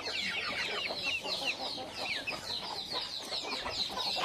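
Native country chickens cluck softly while many chicks cheep in high, rapid peeps, a continuous close chorus with no talking.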